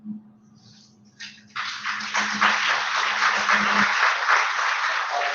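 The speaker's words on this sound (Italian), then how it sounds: "Diamo la luce più forte, l'applauso" Applause for educators at the Premio Civitas Vitae 2023 closing ceremony begins after a low hum and a few scattered claps, then swells into dense, sustained crowd clapping that holds steady to the end.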